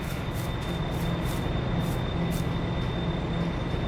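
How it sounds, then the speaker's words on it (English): A train in the farming game Farming Simulator 22 rumbles steadily with a dense, continuous rolling drone and faint rhythmic clatter, loud and unbroken with no talk. "Go hop in the train."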